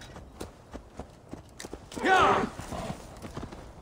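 Hooves clip-clop in a steady walking rhythm, broken by a loud horse whinny partway through; sound effects from the video game Assassin's Creed Valhalla with no other noise.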